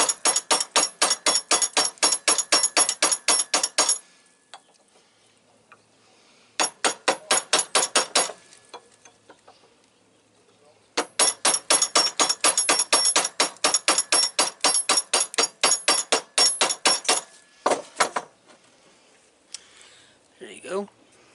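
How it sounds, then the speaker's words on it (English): Light hammer taps on a soft brass rod while making a knife come in fast, even bursts of sharp metallic clinks, with pauses between the runs. "You don't need hard hits, just tap."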